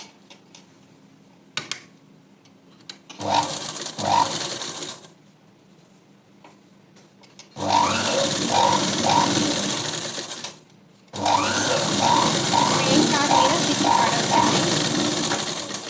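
An electric sewing machine stitching a blouse shape belt runs in three bursts of rapid mechanical clatter, first short, then two longer steady runs, separated by quiet pauses.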